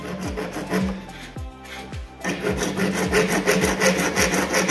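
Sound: hand sawing Schedule 40 PVC pipe with a dove saw

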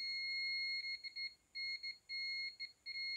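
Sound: multimeter continuity beep testing capacitor to ground

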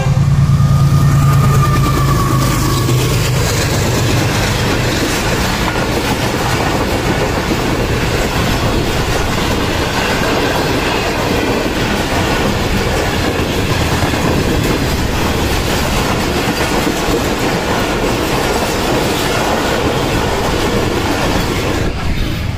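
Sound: train passing a railway level crossing

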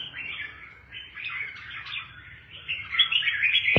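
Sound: pet birds chirping at home

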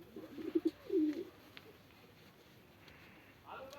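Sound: pigeon cooing

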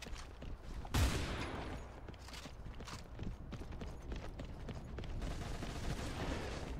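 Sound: shotgun fire in CrossfireX video game

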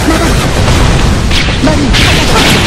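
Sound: artillery skill explosion in video game Closers

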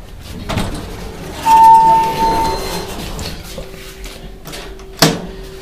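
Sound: Montgomery hydraulic elevator door opening

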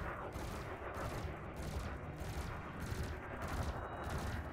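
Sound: burst laser firing in the video game Elite Dangerous

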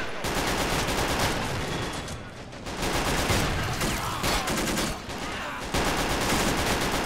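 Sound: gunfire and grenade in the video game Men of War Assault Squad 2

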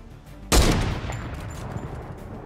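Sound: gunfire in Fortnite video game

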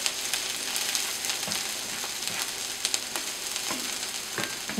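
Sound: onion frying in butter

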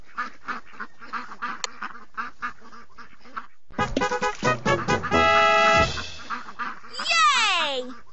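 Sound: baby ducks quacking in a Dora the Explorer video game

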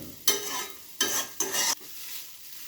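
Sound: stirring thick flattened rice poha in a pan

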